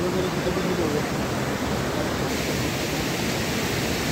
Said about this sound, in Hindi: तेज पानी है